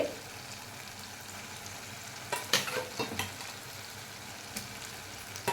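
Prawns fry in a pan, a steady soft sizzle overlaid by a cluster of scraping, clattering stirs from a utensil midway and another near the end, close and without talk.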